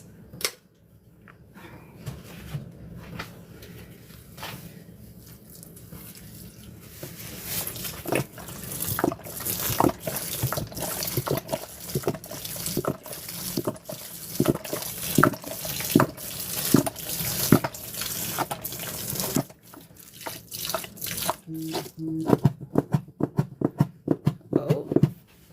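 A liquid-soaked sponge, wet with Lysol Coconut and Orange Fab, is squeezed again and again close up, giving a steady run of wet squelches, drips and splashes that grow denser and sharper toward the end, with no talking.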